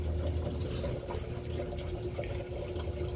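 Steady running water, like a tap filling a container, a continuous close hiss and gurgle with no talking.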